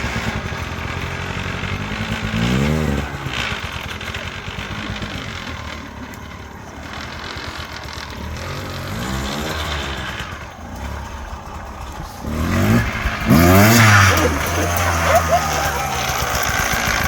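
Four-stroke motorcycle engine revving up and down on a street during wheelie practice, the loud engine surging in repeated bursts with the strongest rev near the end, fairly close.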